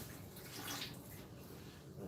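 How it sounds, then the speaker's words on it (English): A knife rinsed under hot running water from a tap, a steady broadband splash and hiss at low level that swells slightly as the blade is rubbed, with no voices. "Quick little rinse in the hot water with thorough rubbing down."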